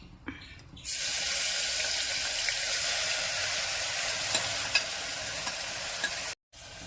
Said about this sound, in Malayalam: ചെറിയുള്ളി, ഇഞ്ചി, വെളുത്തുള്ളി, ഒരു പച്ചമുളക് അത് കുക്കറിലോട്ടിടാം